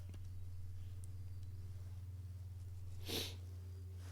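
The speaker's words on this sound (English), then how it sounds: "Ah, nice little sniffle, because I don't know what's wrong with my face." A short, faint sniffle from a person, a brief hissy intake of breath through the nose near the end, heard alone over a steady low electrical hum.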